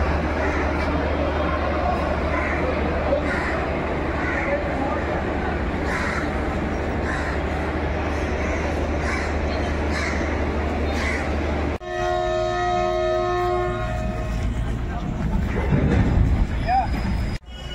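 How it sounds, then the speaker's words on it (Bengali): At a railway station, a train rumbles in and then sounds a loud, sustained horn. Crows caw and people talk in the background. "এই যে ট্রেন।"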